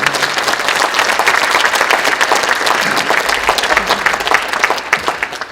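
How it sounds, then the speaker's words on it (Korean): A church congregation applauding to welcome a visiting pastor: sustained, dense clapping from many people that tapers slightly at the end. "박수로 맞이해 주십니다."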